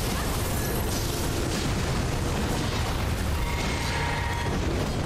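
Dark Moon Greatsword moonlight wave attacks in Elden Ring, fired during a fight with Maliketh, the Black Blade, make a continuous, loud, booming roar of blasts and impacts.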